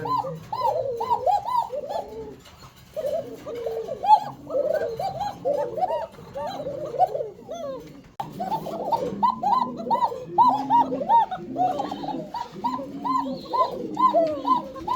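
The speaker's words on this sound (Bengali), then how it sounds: "সারাদিন খালি কোঁ কোঁ করে ডাকে" Fancy pet pigeons for sale at a loft coo continuously in rolling, repeated throaty calls, several birds overlapping nearby with a short pause in the middle.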